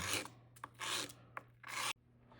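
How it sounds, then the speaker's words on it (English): 220-grit sandpaper scuffing around the outside of a stainless steel ring core, a series of close, loud rasping strokes in short bursts separated by brief pauses, with no talking. "So I just take some 220 sandpaper and just go around and scuff up the outside of the ring."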